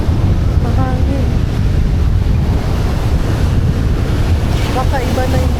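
Strong wind buffets the microphone at the seaside in Crete, a constant loud roar with surf-like rumble throughout, and faint voices briefly audible beneath it.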